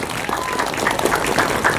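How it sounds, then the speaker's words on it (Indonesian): A gathering audience at an Islamic boarding school applauds with a dense, continuous clatter of hands. The applause is fairly loud throughout, with a faint voice underneath. "tepuk tangan untuk pondok."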